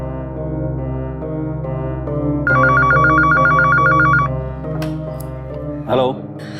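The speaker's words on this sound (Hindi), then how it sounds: "ये सार्थक फोन क्यों नहीं उठा रहा?" A telephone rings on and on with no one answering, a repeated electronic ring pattern heard indoors, ending with a brief rising tone near the close.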